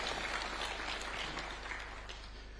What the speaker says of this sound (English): I humbly request that we give a round of applause to these great men and women of our